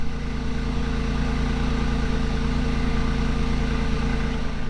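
A BMW i8 mid-mounted engine idles with the exhaust valve held open, a deep, throaty rumble and constant low drone, loud and close, with no speech over it.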